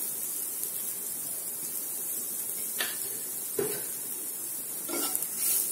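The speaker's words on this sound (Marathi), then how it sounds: "हळद पण छान परतून घेऊ." Turmeric fries in oil in a pan for a potato dosa filling, a constant, fairly loud sizzle with three brief utensil scrapes against the metal.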